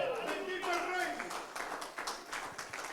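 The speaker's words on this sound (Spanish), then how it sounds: "Denle palmas al Señor Jesús." A church congregation claps during a sermon, rhythmic group handclaps under a preacher's voice and some sung or shouted vocal tones.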